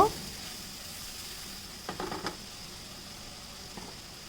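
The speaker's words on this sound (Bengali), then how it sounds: "এখন আমি আবার একটু নেড়ে চেড়ে নিব" A faint steady sizzle of chicken korma cooking in a pan, with a brief burst of stirring clatter near the middle and another small scrape near the end.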